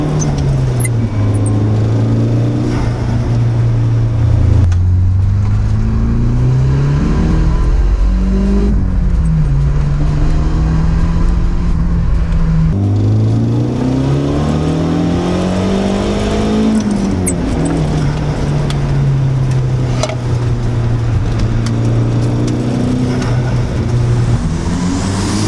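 A Nissan 180SX 'Sileighty' engine drones close and loud, its pitch climbing and dropping repeatedly through throttle bursts and gear changes, with no talking.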